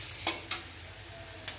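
Dried bitter greens fry in a wok as a utensil strikes it with a few sharp, brief scrapes, spaced irregularly over a faint, steady sizzle close by.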